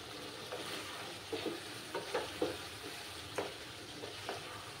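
Mutton masala curry sizzles in a pan while a spoon stirs it through the thick spiced gravy, a steady soft frying hiss broken by a handful of scraping stirs, close by and fairly quiet, with no talking.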